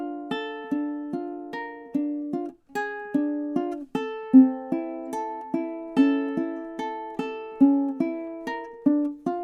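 Ukulele fingerpicked with quick finger movements, a steady series of bright plucked notes ringing over one another and briefly muddying together, with two short pauses partway through, played alone and close.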